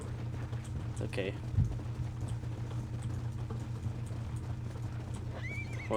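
Horse hooves clip-clopping with a whinny in Red Dead Redemption, set against game music and ambience, with a sharp impact thud and a rising neigh near the end.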